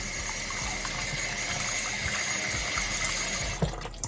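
Water poured and running while oxtail is washed with lemon and vinegar in a kitchen, a steady close gushing flow that breaks into a few splashes at the end, with no talking.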